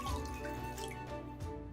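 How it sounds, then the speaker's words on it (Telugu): Half a glass of water is poured into a thick-bottomed pot on a stove, giving a short, close trickle and splash that rings briefly in the vessel. "దాంట్లో ముందు ఒక అర గ్లాస్ నీళ్ళు పోయండి"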